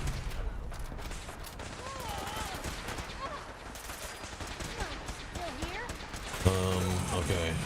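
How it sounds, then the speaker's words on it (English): Gunfire in the post-apocalyptic game Fallout 4, rapid and moderately distant beneath near-constant talking, with scattered shots throughout and a louder burst near the end. "Stop shooting at me."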